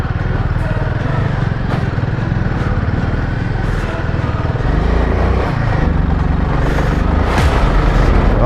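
A Royal Enfield Himalayan 450 motorcycle labours in first gear up a steep sandy incline, its engine droning steadily and loudly throughout with slight surges in revs.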